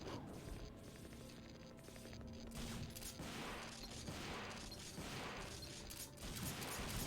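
Rapid repeated weapon fire in a video game, a shotgun fired normally without switching guns: dense bursts of crackling shots, steady and continuous, fairly quiet overall with no talk.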